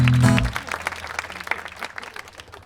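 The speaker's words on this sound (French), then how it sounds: "On peut l'applaudir." An audience at a 2020 pop-culture convention concert applauds. A voice briefly speaks at the start, then a moderate, fairly sparse patter of hand clapping continues nearby.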